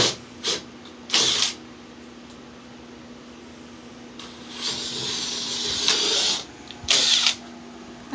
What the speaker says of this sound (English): That seems like a really big drill bit for that.